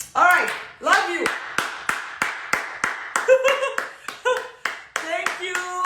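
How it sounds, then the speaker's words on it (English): Hands clap in a steady run of sharp, close claps, several per second, while a voice talks and calls out over the rhythm. "I'm clapping for you"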